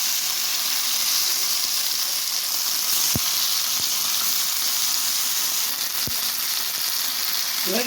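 Gowri and jalebi fish frying in a pan, a steady, dense sizzle of hot oil that holds even and close throughout with a few faint clicks and no voices.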